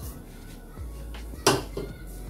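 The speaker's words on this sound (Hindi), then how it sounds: "इस तरह से आप लोग इसको चलाते रहें।" A spoon scrapes and clinks against a pot of sweetened milk for malai sewaiyan, a few light metallic strokes with one sharper clank, close and moderately loud over a low background hum.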